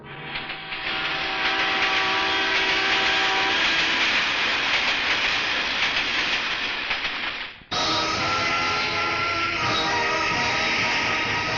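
A train departs a station, its loud, continuous rumble and hiss filling the scene with steady tonal squeal lines, then a brief dip followed by a sharp resumption of the dense rolling noise.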